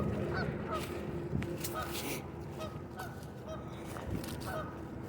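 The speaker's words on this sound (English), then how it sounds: "Listen to those geese." Repeated honking of geese at a moderate distance on a park pond, calls overlapping in loose bursts over a steady outdoor background.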